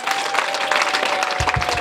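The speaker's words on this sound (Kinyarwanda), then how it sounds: "muhereza Imana amashyi menshi cyane" Dense, steady applause from a large wedding congregation, continuous and fairly close throughout, with a steady tone underneath.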